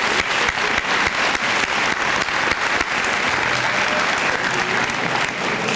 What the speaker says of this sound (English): So let's give them again another round of applause.